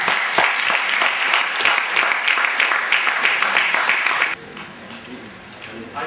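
Dense, loud applause from an audience welcoming a speaker to the stage, a continuous roar of clapping that cuts off abruptly partway through, leaving quiet room noise and a faint murmur.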